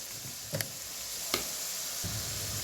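Bhola fish masala with turmeric and salt fries in a pan, giving a steady close sizzle with a few sharp clinks and stirring knocks.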